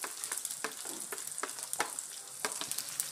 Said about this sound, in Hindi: लहसुन भूनूंगी।